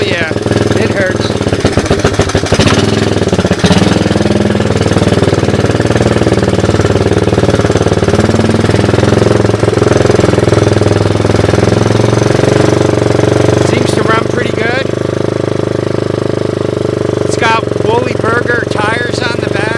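A Honda 185S ATC three-wheeler with upgraded suspension runs loud and close during a ride, its single-cylinder engine chattering and revving in rapid pulses, with brief talk breaking in near the end.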